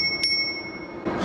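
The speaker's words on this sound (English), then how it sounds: "Now it does come with a little bell," A small bicycle bell on a fat-tire e-bike gives one quick bright ring, followed by rushing wind noise as the bike cruises downhill.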